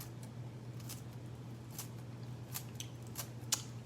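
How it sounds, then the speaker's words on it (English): Scissors snip through a sheet of dried seaweed, cutting it into flakes for a vegan crab cake mix, giving a series of short, crisp, close cuts spaced irregularly over a steady low hum. "I'm gonna take this seaweed and I'm just gonna cut some flakes in here"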